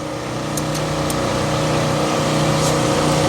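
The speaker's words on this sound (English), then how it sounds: "Okay, Brian, let's do this exhaust." A 1967 Shelby GT500 V8 running with its exhaust note steady and loud, a constant low rumble with no revving, recorded up close in a garage-like setting.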